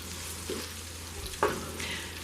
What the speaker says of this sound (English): I chopped up some yellow onion. Letting that kind of saute.